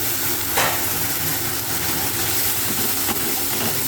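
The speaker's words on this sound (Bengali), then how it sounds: "একটু মশলা দেওয়া জলটা আমি ভিতরে দিয়ে দেবো।" Spiced water poured into frying masala for Bengali bata fish curry, producing a loud, continuous sizzle and bubbling hiss with faint stirring scrapes throughout.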